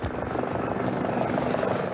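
An unmarked military helicopter, its rotor thumping in a fast steady beat under a loud continuous engine whine, close and alone.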